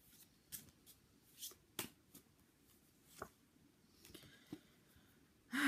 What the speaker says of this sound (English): I'm going to pull out one more card to confirm.